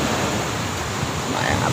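Rough sea waves churn during the habagat monsoon as a continuous, close roar of surf and wind noise, with a voice faintly audible beneath it.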